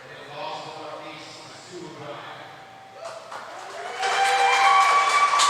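Scattered clapping and crowd noise at an RC car racing event swell into louder applause toward the end, with murmuring voices throughout.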